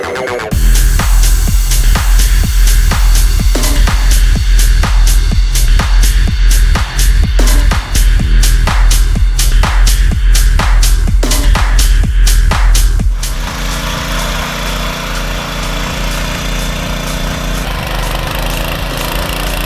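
A Really Agritech 700G power weeder engine runs loud and steady with a throbbing, rapidly pulsing beat, then settles into a slightly quieter, smoother drone for the last several seconds.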